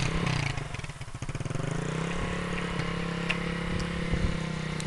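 A motorbike ridden along a rural track near a farm in Malawi gives a close, steady engine drone that dips briefly and then holds, with faint rattling underneath.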